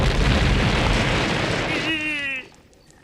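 A cartoon Krabby Patty from SpongeBob blows up in a loud, sustained rumbling blast that tails off into a falling whistle-like tone before going quiet.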